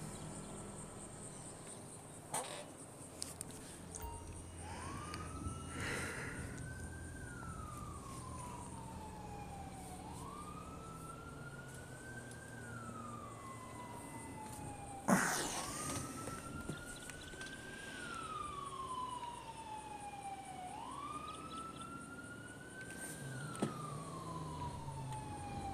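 An ambulance siren in GTA V with the LSPDFR police mod wails in repeated rising and falling cycles, steady and moderately distant, under a faint insect-like ambience with a few sharp clicks.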